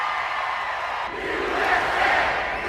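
A large crowd cheers and roars continuously, a broad and fairly loud wash of voices that swells slightly toward the end.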